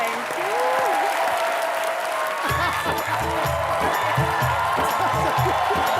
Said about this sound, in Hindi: जोरदार तालियां सोनाक्षी के लिए प्लीज